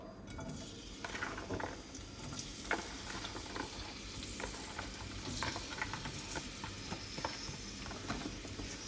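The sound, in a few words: merguez sausages frying in oil in a small wok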